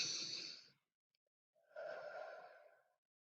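A person breathing in slowly and deeply as a relaxation technique: a long breath, a short pause of silence, then another long, steady breath, close and quiet with no talking.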